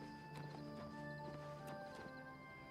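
Hooves of a paint horse in the video game Oblivion Remastered clip-clop in a few spaced steps over a sustained tonal game-music background.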